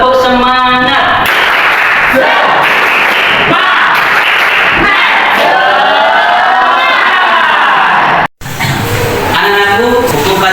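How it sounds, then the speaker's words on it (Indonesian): A classroom of ninth-grade pupils performs the tepuk semangat spirit clap, a loud, dense burst of rhythmic clapping mixed with children's shouting and chanting voices, broken by a brief cut before the noisy group sound resumes. "Ya, semangat, kita tepuk semangat."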